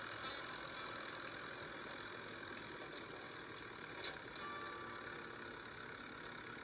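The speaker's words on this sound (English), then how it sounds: "that tractor is old" An old Kubota tractor idles on a farm during bale wrapping, its engine giving a steady, faint mechanical hum heard from a distance with no voices over it.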